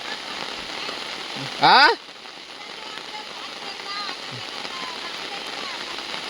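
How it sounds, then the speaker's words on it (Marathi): Steady rain falls over paddy fields in a continuous, even hiss, with a brief spoken word early on. "तर पाऊस कंटिन्यू चालूच आहे बघा"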